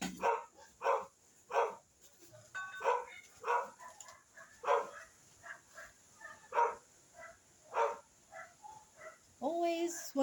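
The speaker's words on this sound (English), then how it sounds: "Oh, dogs." Several dogs bark repeatedly at roughly one-second intervals, loud and fairly close, with the barking continuing throughout.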